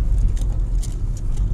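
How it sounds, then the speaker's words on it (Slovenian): A car passes on a forest road in the Pohorje hills, a steady, loud low rumble of engine and tyres that stays close for the whole short stretch, with no voices. "en avto je šel mim"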